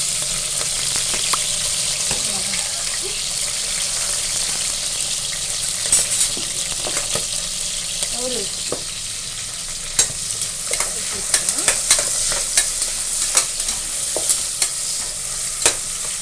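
Onion and green chillies sautéing in a pan with cinnamon and cloves, a close, continuous sizzle broken by frequent sharp scraping and clinking stirs that grow busier toward the end, no voices.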